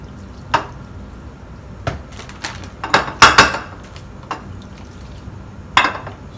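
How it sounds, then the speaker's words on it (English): Melted cheese mac and cheese going into a pan, a scattered run of spoon clinks and scrapes against metal with a cluster of sharp knocks in the middle, close and fairly loud. "Now I'm adding to my pan."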